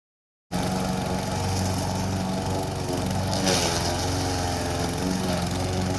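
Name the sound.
lawn mower mowing down a cover crop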